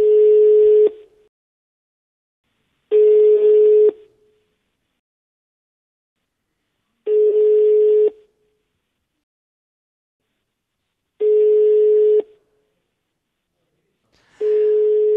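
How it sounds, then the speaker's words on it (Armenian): Telephone call tones: five even, pure beeps about a second long, spaced a few seconds apart with silence between, loud and clean, with no talk. "Զանգարենք նրան։"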